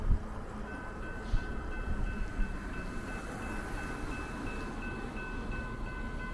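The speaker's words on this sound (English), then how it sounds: "Time for the trains to come through." A train rumbles past at a distance, a low continuous roar with faint rail clatter and a thin tonal whine over it.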